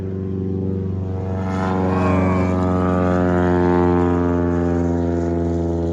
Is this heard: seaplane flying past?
yes